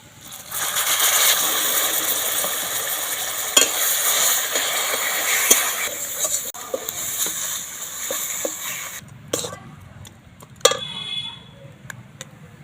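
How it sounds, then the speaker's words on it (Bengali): Boiled pumpkin goes into a pan for a pumpkin laddu sweet and is stirred, giving a steady close scraping and sizzling texture with a few sharp utensil knocks, then quieter intermittent clinks and taps near the end. "আগে থেকে যে কুমড়োটা সেদ্ধ করে রেখেছিলাম সেই কুমড়োটা এর মধ্যে দিয়ে দিচ্ছি"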